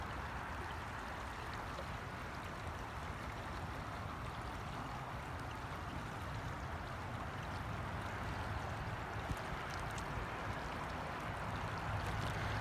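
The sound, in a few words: Stones River flowing water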